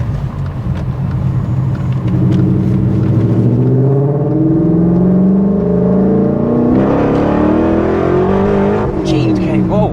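A supercharged E39 BMW M5 revs hard from inside the car, its deep exhaust note climbing steadily in pitch as RPM rise, then a brief drop and another rising pull, loud and close, with people talking over it.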